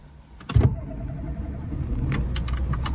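A 1991 Ford Fiesta with a manual choke cranks briefly and catches, settling into a steady close idle hum, with light clicks and rattles around it and no voices.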